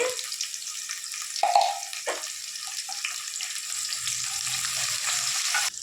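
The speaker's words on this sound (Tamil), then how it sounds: "வரமிளகா போட்டுக்கலாம் வெங்காயம் வெங்காயம் நல்லா செவக்க வறுக்கும்" Onions and dried red chillies fry in hot oil in a home kitchen, giving a steady close sizzle with a few clinks and stirring scrapes near the start.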